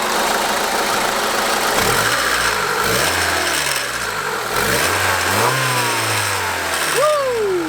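Honda Civic EK hatch with a 1.6 liter D-Series engine running close by, a steady idle broken by several quick revs whose pitch rises and falls repeatedly.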